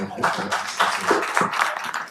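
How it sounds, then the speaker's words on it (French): A small audience applauds at a French-language agricultural talk, a short burst of scattered hand claps mixed with murmuring voices. "Ça mérite des applaudissements."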